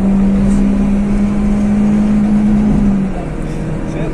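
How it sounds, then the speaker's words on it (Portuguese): A Renault Clio engine held against the rev limiter cut, a loud steady droning pitch sustained for about three seconds before it drops away as the throttle is released. "corte de giro."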